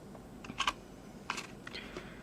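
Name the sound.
punching a hole in a paper tag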